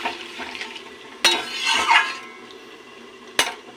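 Water poured into fish curry in a pan, a close hissing pour and bubbling swell between sharp clanks of a utensil against the metal, moderately loud with no talking.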